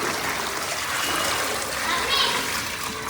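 Muddy bore water splashes and pours out steadily while a water tank is cleaned, a continuous close wash of water with children's voices faintly audible in the background.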